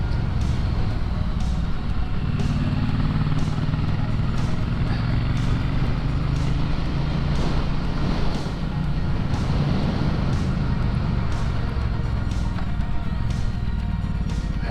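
Triumph Bonneville T100 motorcycle ridden on the road near Malibu, a steady engine drone with wind rush filling the whole stretch, loud and continuous with faint ticking on top and no talk.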